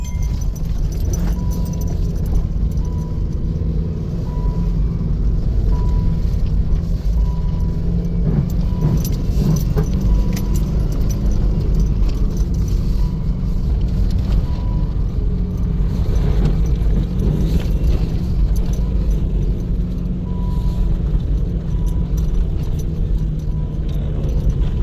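A Jeep Wrangler climbs uphill through forest, its engine a loud continuous low drone with constant rattling and clinking from the cabin, heavy and unbroken for the whole stretch, no voices over it.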